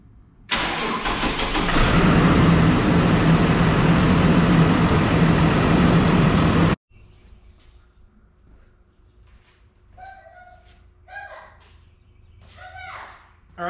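A Cummins 6.7 ISB diesel engine in a Thor Palazzo motor coach cranks and roars to life loudly, running for about six seconds before cutting off, followed by quiet clicks and faint distant chirps.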